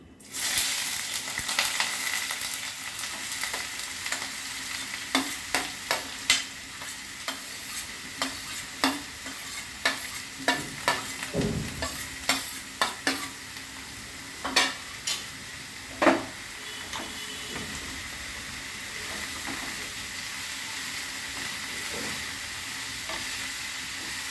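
Chopped ash gourd goes into a hot pan and fries with a steady sizzle, punctuated by repeated sharp scraping stirs of a spatula, fairly close and without talk.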